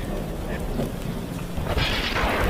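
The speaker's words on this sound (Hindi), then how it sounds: "बिजली जोर जोर से कड़कने लगती है" A low rolling rumble of thunder over rainfall, swelling toward the end of the short stretch, in a Hindi cartoon.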